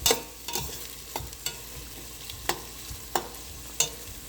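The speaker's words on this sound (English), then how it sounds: "Now we are going to saute these onions till they become pink or translucent." Onions being sautéed in a pan, a soft sizzle with a string of sharp scrapes and taps from a spatula against the pan at uneven intervals, close and heard alone.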